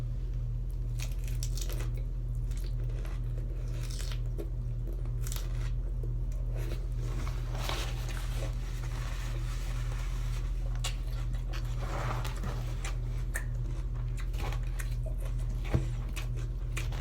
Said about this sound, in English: The crunchiness of the lettuce.